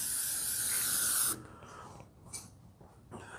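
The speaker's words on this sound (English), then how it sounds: "So I'll spray that on" A steady aerosol sunscreen spray hisses continuously for over a second onto a horse, then cuts off, leaving quiet rustling and faint handling sounds.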